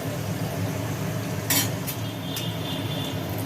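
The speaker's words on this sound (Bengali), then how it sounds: "কুমড়ো ভাজাগুলো হয়ে গেল সুন্দর করে ভাজি হলো" Pumpkin slices frying in a pan at home, a steady low sizzle with a few light clinks of a utensil against the pan, close and alone.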